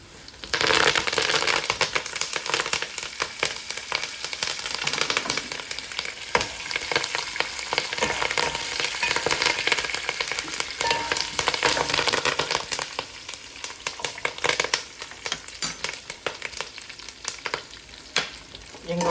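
Curry leaves sputtering in hot oil for an egg and sweet potato pulusu, a dense, bright crackling sizzle that carries on steadily, close and loud, with no voices.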